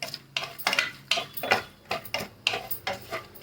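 Dry fruits clinking and being stirred with a utensil in a pan of oil while frying, a quick rhythmic series of close metallic taps and scrapes with no talk.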